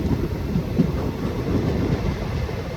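Train at Pattikkad railway station on the Nilambur route, heard as a steady low rumble of rolling wagons that continues throughout, with rain in the background.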